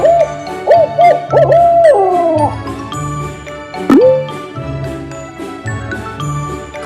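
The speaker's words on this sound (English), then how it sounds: "Owl." Several short, rising and falling owl hoots sound near the start, clear and loud over a tinkling, jingly musical backing that continues afterward.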